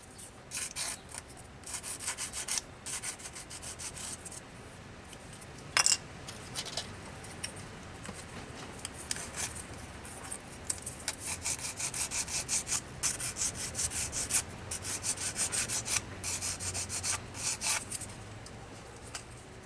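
Steady scratchy rubbing of sandpaper against the hard plastic fan of a Revell Ventura bomber model kit, continuing for the whole stretch in close, uneven strokes with a single sharp knock midway.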